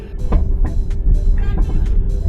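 A Tesla Model 3 towing a four-wheeler on a highway accelerates gently, with steady road and tire rumble and low motor drone continuing throughout, interrupted by a few faint brief clicks or knocks, with no talking.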